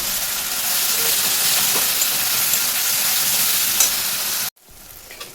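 Masala for a Bengali mutton curry with potatoes fries in a pan with a splash of water, giving a loud, steady sizzle and hiss with occasional stirring scrapes, then cutting off abruptly near the end to a quieter, softer crackle.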